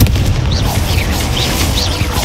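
A Confringo fire spell explodes in combat in Hogwarts Legacy, a dense booming burst that carries through the whole moment over a steady rumble of game effects, with faint chirp-like tones above.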